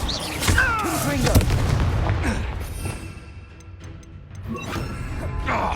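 A Confringo explosive spell blast in Hogwarts Legacy, a sharp booming impact near the start followed by crashing debris and a fading rumble, with a voice speaking over the game sounds.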